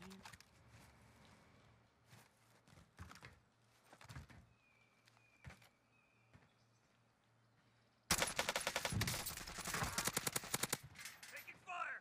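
Video game gunfire: scattered faint shots at first, then loud, sustained rapid bursts of automatic fire over the final few seconds.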